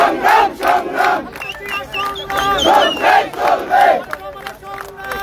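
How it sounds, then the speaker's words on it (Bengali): A protest march crowd at night in front of Dhanmondi 32 in Dhaka chants slogans in loud, rhythmic call-and-response waves, many voices rising and falling together close by. "আরো একটি বিক্ষোভ মিছিল যেমনটি দেখতে পাচ্ছেন এসে উপস্থিত হয়েছে এবং তারা কিন্তু বিভিন্ন স্লোগান দিচ্ছেন"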